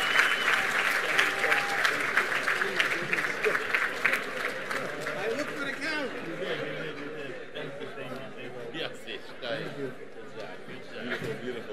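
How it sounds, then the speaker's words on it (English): Convention audience applause rises loud at first and then thins into scattered clapping, with chatter and light laughter from the crowd continuing underneath. "a round of applause."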